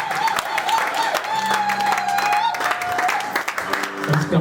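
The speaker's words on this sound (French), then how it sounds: "Acclamons encore pour le marié." Wedding guests applaud and cheer the groom at a church ceremony in Montataire, a steady wash of clapping with voices and music underneath throughout.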